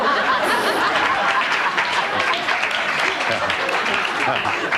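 Studio audience at a daytime talk show applauding, a steady wash of clapping that fills the whole stretch, with some chuckles and voices mixed in beneath it.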